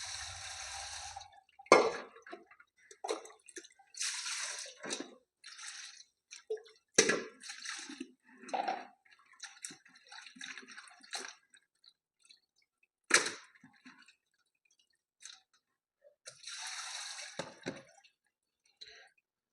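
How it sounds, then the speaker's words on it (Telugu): Fish pieces being washed and shifted between vessels in water for a village-style fish curry, heard as scattered splashes, sloshes and knocks, close and fairly quiet, with silent gaps between them. "కలయి తిప్పిన తర్వాత నీళ్ళు పోసుకొని దాంట్లోంచి ముక్కలన్నిటినీ మళ్ళీ వేరే పాత్రలోకి వేసుకోవాలి."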